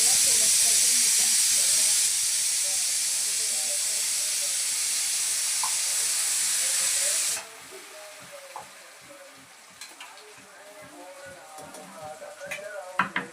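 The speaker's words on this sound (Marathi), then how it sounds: "तर मी आता ह्याला तेलात फ्राय करून घेते." Spice paste for a homestyle chicken curry frying in hot oil, a loud steady sizzle and hiss with stirring that drops sharply partway through to a softer crackle with scattered scraping and clinks.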